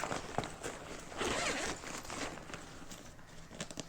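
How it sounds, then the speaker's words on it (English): The zipper on a Prodigy BP-1 V3 backpack pocket is pulled open in several close, raspy strokes, some longer and some short, with small rustles of fabric and no speech. "There's another zipper right here that actually unzips"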